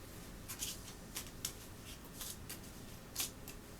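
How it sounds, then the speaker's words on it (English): A deck of monster damage cards for a tabletop board game being shuffled, with several quick soft riffling bursts close by in a quiet room and no talk. "Give this a good shuffle."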